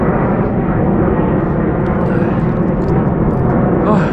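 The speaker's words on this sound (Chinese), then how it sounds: "这边还有飞机经常起飞" Airplane taking off near a hotel, a steady loud low rumble of jet engine noise filling the whole stretch without a break.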